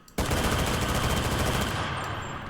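Sustained automatic fire from an FG42 rifle in the Enlisted video game, a dense rapid burst of close, loud shots that runs without pause through the whole stretch.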